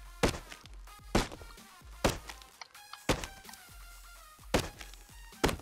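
Wood being chopped in the survival game Rust, a series of hollow thunking strikes at an uneven pace, each hit loud and close over a quiet game background, with no talk.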